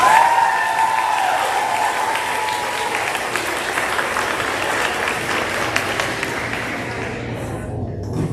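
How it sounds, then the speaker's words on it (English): An audience at a school awards ceremony applauds faculty and staff in a long, steady round of clapping that holds for several seconds and then fades out at the end. "How about a big round of applause for the faculty and staff?"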